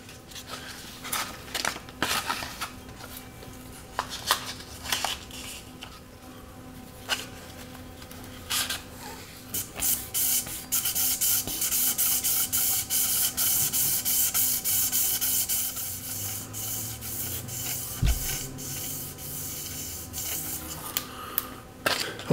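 Steady abrasive rubbing of 1000 grit sandpaper worked with a shoelace around an oiled crankshaft journal, a continuous scratchy hiss running close and unbroken for the whole stretch without any talking.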